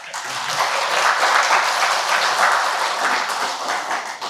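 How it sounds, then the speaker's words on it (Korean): A large audience at a creditors' association gathering breaks into applause: a loud, dense, even roar of many clapping hands that swells slightly and holds steady, with no speech over it. "박수 한번."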